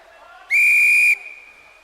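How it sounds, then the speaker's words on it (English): A referee's whistle at an underwater rugby match gives one sharp, piercing blast about half a second long. It stands out loudly over a faint background hum. "So this whistle is really loud in the headphones here."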